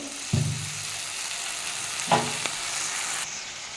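Cumin powder, chilli powder and turmeric frying with a splash of water in a pan for a fish-head and Malabar spinach stalk curry, giving a steady close sizzle with a couple of brief clatters and no talk.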